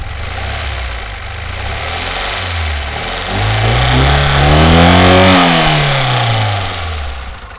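A Lada Niva engine revving close by, climbing from a rough low idle into a sustained rising roar, then easing back down, loud and alone.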